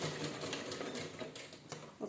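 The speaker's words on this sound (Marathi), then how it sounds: "शिलाई लॉक करून घ्यायची." A sewing machine stitches a pillow cover in quick, even mechanical clatters, close and fairly quiet, with a short pause near the end.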